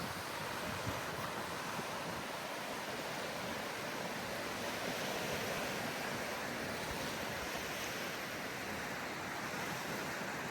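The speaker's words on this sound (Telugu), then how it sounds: "చూడండి సముద్రము, అలలు ఎంత బాగుందో." Sea waves beside Kuwait Towers on a windy day make a steady, dense roar of surf mixed with wind buffeting the microphone, continuous and loud with no voices.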